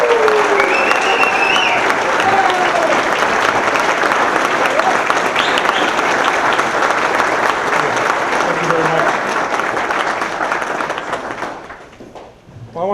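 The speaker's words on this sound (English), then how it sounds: "Round of applause." An audience at a police chief's swearing-in ceremony applauds loudly and steadily for a long stretch, with whistles and cheers mixed in, then the clapping tapers off sharply near the end.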